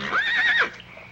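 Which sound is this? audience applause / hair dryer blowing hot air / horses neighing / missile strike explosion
horses neighing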